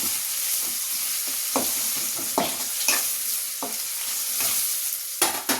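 Food frying in a pan, a continuous soft sizzle with intermittent stirring scrapes and clinks at irregular intervals, close and moderately loud, with no talking.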